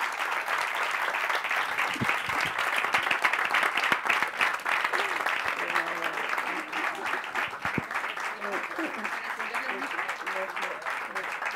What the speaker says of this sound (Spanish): Por favor, vamos a darles un fuerte aplauso a Adoración Bolívar y a Antonio Medina.